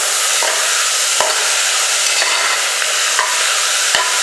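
Vegetables sautéing in a pan for wheat rava vegetable pongal: a loud, even, hissing sizzle throughout, broken by a few light stirring knocks at regular intervals, without speech.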